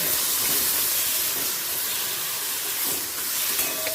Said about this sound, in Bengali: এই সময় দিয়ে দিচ্ছি কেটে রাখা টমেটো